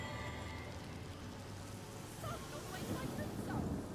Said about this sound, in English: I'm putting rain down just because of the freaking traps.